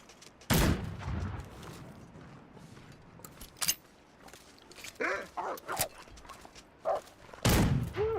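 Rifle shots fire in The Long Dark, a survival game set against wolves. Two loud sharp cracks sound seconds apart, with a third near the end, amid snowy footsteps and faint wolf-like yelps between them.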